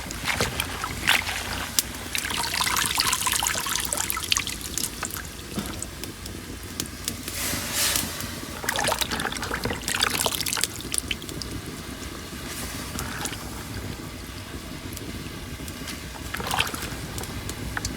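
Greens simmering in a pot of water over a village cooking fire, giving a steady bubbling and liquid churning with irregular splashy bursts throughout, close and moderately loud, no voices.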